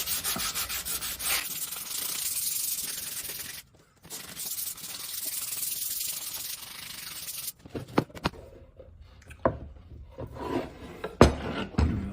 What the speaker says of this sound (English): The last part is just to give it a hand sand.